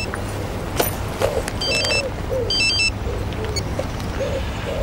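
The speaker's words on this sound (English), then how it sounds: "Is that your phone ringing?" A phone rings in two short electronic bursts over a low background hum, fairly close, with faint distant noise between the rings.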